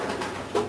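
A racing pigeon of the Turnier line, an aging breeding cock, coos in a short, soft, close-up burst with a slightly stronger swell near the end.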